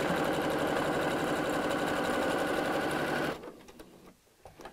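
A sewing machine stitches burlap (hessian) for a pumpkin, running loud and steady with a fast mechanical whir for about three seconds before stopping, followed by soft handling noises.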